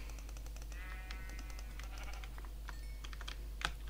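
Minecraft sheep bleat in a game, quiet wavering cries heard a few times over a low steady hum, with keyboard typing clicking throughout.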